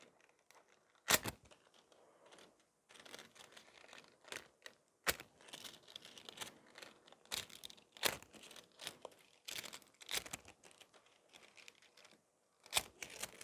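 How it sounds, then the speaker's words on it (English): Rose gold transfer foil is pressed onto a cured gel nail design, giving soft close-up crinkling broken by several sharp, isolated crackles and taps. "now I'm going to transfer the foil over it"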